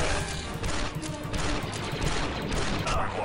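Dense, continuous gunfire from blasters and automatic weapons in the video game Star Wars Republic Commando, a loud unbroken barrage of rapid shots that fills the whole stretch with no pause.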